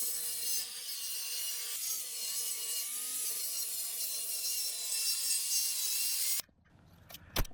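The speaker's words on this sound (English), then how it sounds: "I made 4 passes with my circular saw to cut a 3/4 inch notch in the top of the beam" Circular saw cutting a notch into the top of a wooden post beam, a steady high-pitched whine and rasp held for several seconds before stopping abruptly, followed by faint handling clatter.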